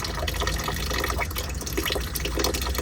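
Coolant pours steadily out of the radiator of a 1999 Mazda B2500 in a continuous, close splashing stream with dripping mixed in, loud and unbroken throughout.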